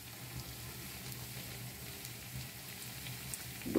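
Lentil fritters (bora) deep-frying in oil crackle and sizzle in a faint, steady patter like light rain, continuous throughout with no voices.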